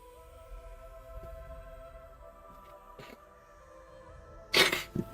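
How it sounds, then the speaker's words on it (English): One abrupt, loud sneeze near the end of a quiet stretch with faint background tones, followed by a smaller second burst. "Bless you."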